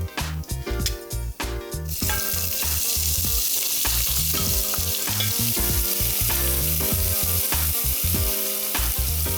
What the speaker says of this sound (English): While the onion's frying,